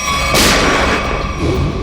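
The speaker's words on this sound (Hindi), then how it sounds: "तो गोली यहां से चली है" One loud gunshot-like boom bursts out, then trails off in a rumbling echo against steady background noise.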